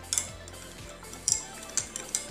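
A spoon stirs lemon mint sherbet, giving faint, evenly spaced clinks against the glass over a quiet background.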